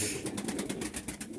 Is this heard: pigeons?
yes